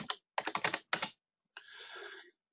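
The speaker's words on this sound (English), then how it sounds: "So I'll just type in grid reference" Quick bursts of keystrokes on a computer keyboard, close and clear, with short pauses between clusters of taps and a final softer stretch of sound.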